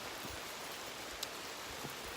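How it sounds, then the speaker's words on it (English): Steady rain falls on the Black Forest Trail loop in Pennsylvania's forest, a dense, even hiss with scattered soft drops, moderately quiet and constant with no one talking. "As you can see, it's raining."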